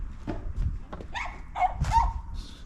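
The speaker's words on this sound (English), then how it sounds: "Customer back with the dog." A customer's dog gives a few short barks and yips nearby, over low background rumble.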